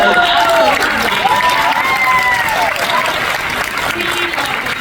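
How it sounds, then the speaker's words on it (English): A crowd claps in a dense, steady wash of applause at a fan convention panel in Toronto, with voices calling out over it and the noise fading slightly toward the end. "please give a big round of applause"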